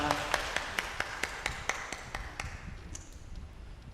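A church congregation claps in a quick, even rhythm that fades over a few seconds, the claps sounding thin and roomy rather than like a large, dense ovation.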